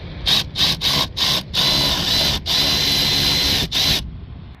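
A power tool, likely a drill or driver, undoes a T30 bolt on a Skoda Octavia 1.6 TDI exhaust, running in several loud, close bursts of whirring with short pauses between them before stopping.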